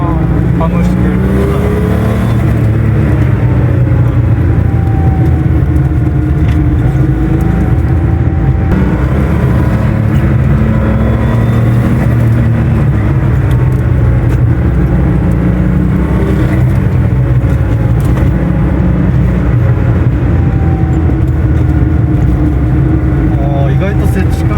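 Air-cooled flat-six engine of a Kremer Racing–tuned Porsche 930 Turbo drones steadily from inside the cabin, rising and falling with throttle through a downhill corner while people talk over it throughout.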